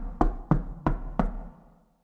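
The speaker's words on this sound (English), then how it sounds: "there was a very loud knock on the door." Four very loud, sharp knocks strike a door in an even rhythm, close and unaccompanied, with the last one fading into quiet.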